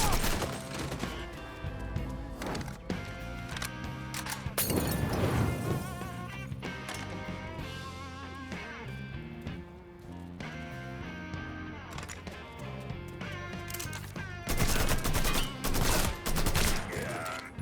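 Heavy gunfire in the video game Mafia III: a dense, continuous barrage of shots under music and game noise, loudest bursts near the start and end.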